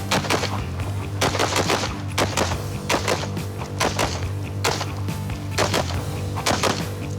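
Rifle gunfire on a tactical shooting course: rapid, repeated loud cracks in quick bursts through the whole stretch, over a steady low hum and with no talking.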